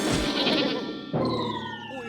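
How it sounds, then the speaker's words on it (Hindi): A goat bleats in two drawn-out, wavering cries, the second rising sharper after a brief break, loud and close in a comedy cartoon scene. "ये नई बकरी कहाँ से आ गई?"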